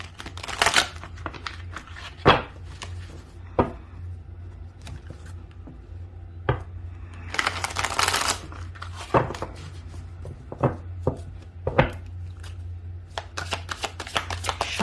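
A deck of tarot cards is shuffled in quiet surroundings, irregular riffling and slapping bursts scattered over about fifteen seconds, close and fairly soft, with a longer flurry near the middle.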